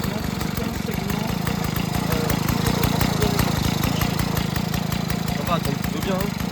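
A Peugeot 103 TSA moped engine idles steadily up close, a fast, even putter with a slightly knocking rhythm.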